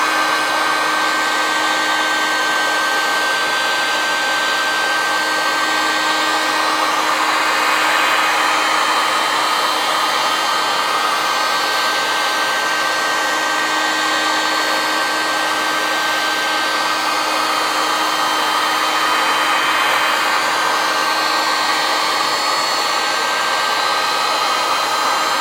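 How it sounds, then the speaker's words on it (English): A heat gun runs on its high setting to soften the adhesive behind glued-on wall tiles, giving a loud, steady broadband blowing roar with a constant motor whine throughout, close up and without any voices. "So I'm going to use the high speed on the heat gun."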